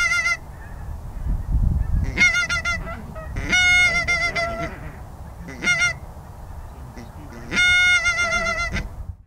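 A skein of geese flying in honks in loud bursts, several clear repeated calls arriving in separate clusters with quieter gaps and low rumble between them.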